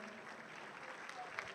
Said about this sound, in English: One more round of applause for the entirety of the top 10.